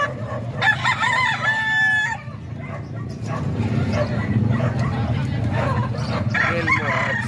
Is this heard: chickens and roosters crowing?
yes